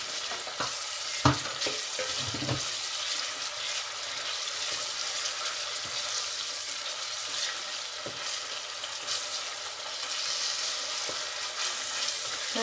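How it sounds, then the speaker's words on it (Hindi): Ginger garlic paste frying in a pan with sautéed ingredients for aloo baingan sabzi gives a steady, close sizzle with occasional stirring clinks. "अब मैं डालूँगी अदरक लहसुन का पेस्ट भी साथ"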